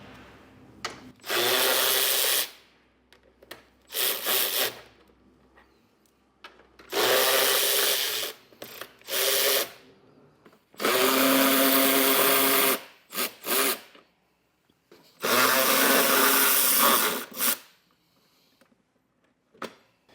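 A ratchet with an 8mm socket removing bolts from a plastic piece on a 2022 Ford, heard as loud bursts of rapid clicking and whirring separated by short pauses, close and with no talking.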